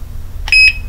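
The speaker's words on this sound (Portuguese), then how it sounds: "ele ativa o alarme" An alarm padlock gives a brief, sharp electronic beep, a short chirp of two quick pulses that is loud and close over a low hum.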